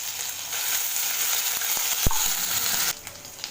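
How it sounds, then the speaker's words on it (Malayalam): Crushed ginger and garlic frying in hot oil, a close, dense sizzle with a couple of sharp clicks from a utensil against the pan midway, then the hiss drops slightly toward the end. "അപ്പോൾ നമുക്കിതിലോട്ട് ഇഞ്ചി വെളുത്തുള്ളി ചതച്ച് വെച്ചിരിക്കുന്നത് ഇട്ട് കൊടുക്കാം."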